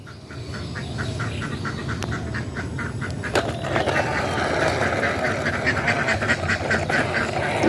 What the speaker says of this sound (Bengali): আর ওইদিকে দেখুন গাইস হাঁসে কি একটা করতেছে